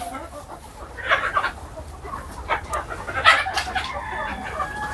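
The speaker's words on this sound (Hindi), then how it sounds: "ये है मुर्गियां जो आप देख रहे हैं अभी यहाँ पे सारा" Sonali breed chickens on a poultry farm, several hens clucking and squawking in irregular bursts over a constant low background hum, moderately close.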